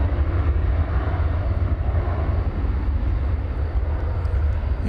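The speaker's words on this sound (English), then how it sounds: "Flight 2160 is going to Colorado Springs, 737-800." A Boeing 737-800 airliner takes off at DFW Airport, producing a continuous heavy roar with a deep rumble and wind-like rush. It holds loud and even throughout, with no voices.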